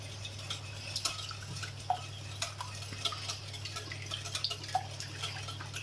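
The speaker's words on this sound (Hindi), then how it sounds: "अंडों को अच्छी तरह मिक्स कर" Eggs being whisked in a bowl for minced meat stuffed peppers, a steady series of light clinking taps of utensil against the bowl, close and quiet over a low constant hum, with no talking.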